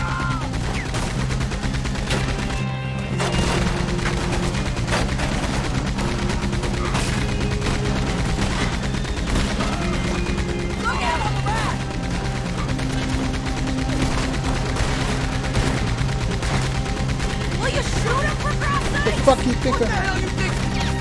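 Rapid bursts of gunfire from a mounted gun in Red Dead Redemption 2 crackle continuously through a long stretch, with game music and voices mixed underneath.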